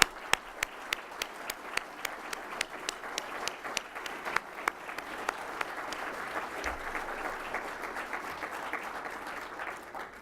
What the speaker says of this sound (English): Can we give these amazing honorees a round of applause